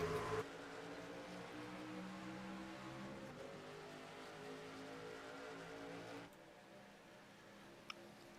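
A pack of race cars roaring together at a green flag start in an NSRA stock car race, a steady loud engine drone that drops slightly near the end, heard from a distance with no talk.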